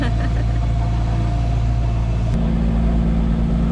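A sailboat's motor drones steadily up close, a constant low hum that shifts slightly in pitch partway through, with no talking.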